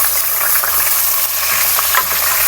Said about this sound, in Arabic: نبدأ اللحمة صدمة في الزيت